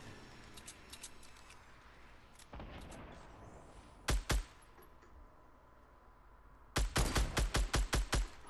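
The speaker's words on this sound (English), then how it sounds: "I wrecked him with the sniper." Gunfire from a sniper rifle in the Fortnite video game: one isolated sharp shot, then a quick burst of several loud reports in a row, set against a quiet game-world background.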